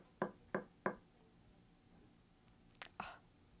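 Three sharp knocks on a door in quick succession, then a faint pause and a couple of lighter knocks and taps, heard in a quiet dark room with no talk.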